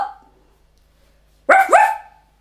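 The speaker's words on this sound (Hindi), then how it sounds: "अगले दिन मोती भौं भौं भौंकता रहा, पर भीमा की नींद नहीं खुली।" A dog gives two quick, sharp barks close up, one right after the other, following a brief sound and a moment of near silence.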